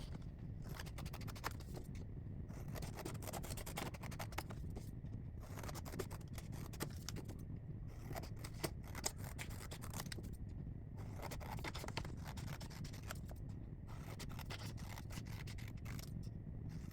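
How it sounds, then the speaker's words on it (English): Scissors cutting out paper pictures for classroom visual schedules, a quiet close run of repeated snips and paper rustles in uneven bursts, with short pauses between cuts. "So I'm gonna go ahead and cut these right now."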